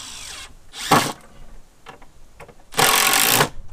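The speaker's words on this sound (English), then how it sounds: "I'm just screwing off planks, cutting them to length, and screwing them off here" Power drill driving screws into wooden planks during a chicken coop build, two short loud whirring bursts with small knocks and handling noise between them.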